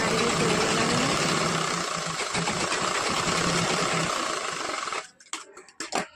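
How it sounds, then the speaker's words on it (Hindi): A sewing machine stitches along the folded edge of a blouse lining, a steady close mechanical whir for about five seconds that stops, followed by a few scattered clicks and handling knocks. "इसके बाद आधा इंच कपड़ा मोड़ के फिर से किनारे किनारे में सिलाई लगाना है"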